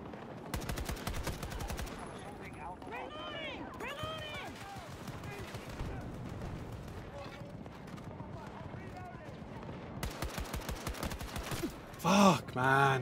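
Gunfire in Battlefield 2042 comes in two bursts of rapid automatic shots, one early and one late, loud and close. Someone talks over the quieter middle stretch.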